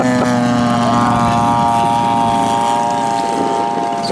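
Giant-scale Ziroli DC-3 model airplane built by Bob Bailey, its propeller engines droning steadily and loudly nearby with a strong even tone, no talk over it.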